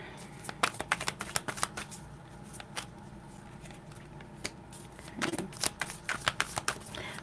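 Tarot or oracle reading cards being shuffled by hand, a close, crisp run of rapid riffling flicks in bursts with short pauses between, no talking.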